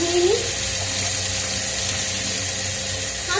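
Tap water running steadily into a kitchen sink while hands are rinsed after chopping onion, a continuous close rush with no speech.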